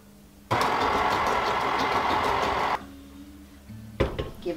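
A stand mixer with a paddle attachment churns oatmeal raisin cookie dough after dry ingredients go in, a loud steady motor whir with rhythmic thumping for about two seconds, then cutting out to quieter clatter and a short restart.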